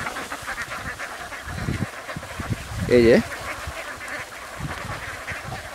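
Free-range ducks foraging on spilled rice grain and insects in an open harvested paddy field, giving a loud burst of close quacking midway, with scattered softer calls around it and someone talking outdoors throughout.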